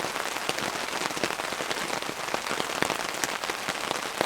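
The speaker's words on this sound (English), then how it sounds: "Rain's starting to come down pretty good." Heavy rain pelts a cabin awning at a bushcraft campsite, a dense, steady patter of countless close drops with occasional sharper splats, continuous and loud with no talking.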